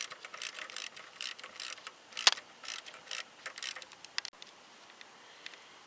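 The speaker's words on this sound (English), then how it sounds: "I got a 15 millimeter socket, and I'm just going to screw this until the belt is loose" A 15 mm socket on a ratchet clicks in quick, irregular bursts while loosening the belt tensioner bolt on a 1996 Jeep Cherokee Sport. The sound is close and fairly loud at first, then thins to sparse, fainter clicks.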